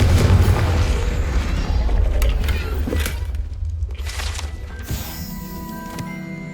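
A Confringo explosion spell from the Hogwarts Legacy video game booms and crackles, with a sustained rumbling blast followed by several sharp bursts and a fading magical tail, heard without talk.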